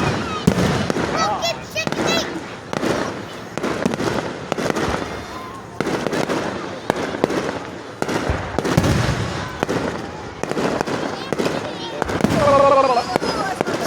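Fireworks at a 2024 display in Marion, Indiana pop and crackle continuously through the clip, with layered bursts near and far while people chatter and call out underneath.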